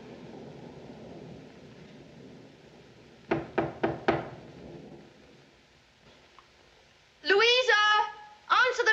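Four sharp knocks on a door in quick succession, heard over a steady rumble of rain and thunder in a film-noir crime drama, followed by a voice.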